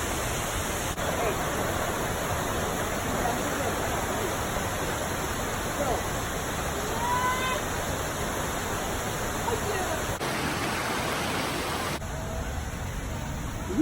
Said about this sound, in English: Then down there, the waterfall. You can hear the sound.